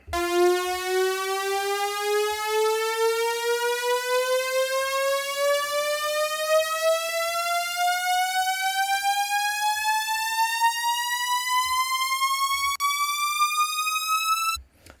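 Synth upriser whose pitch sweeps steadily upward for about fifteen seconds, a bright, buzzy tone rich in harmonics with an LFO modulating the pitch, playing alone at constant loudness.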